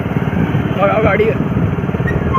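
Motorcycle engine running steadily while riding through Machhalishahar market in Jaunpur, Uttar Pradesh, a loud continuous mid-pitched drone close by, with a voice briefly speaking over it.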